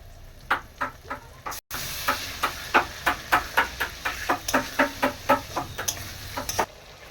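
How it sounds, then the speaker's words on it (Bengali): Marinated mutton frying with onions and tomatoes, a low sizzle under a regular run of about fifteen sharp spoon scrapes and knocks against the pot, close and steady in rhythm. "পেঁয়াজ টমেটোটা ভাজা হয়ে গেলে তাতে ম্যারিনেট করা মাংসটা দিয়ে দিচ্ছি"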